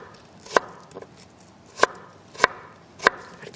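A knife slicing radish on a cutting board gives four crisp, separate chops at uneven intervals, close and clear against a quiet background.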